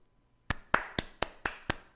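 Six sharp hand claps ring out alone at an even, quick rhythm after a brief quiet start, each crisp and close.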